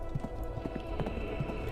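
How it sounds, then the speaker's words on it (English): Hooves of a horse ridden hard along a road, a quick, steady clip-clop at moderate distance, fairly faint and fading as the rider passes. "The sound of a horse died away."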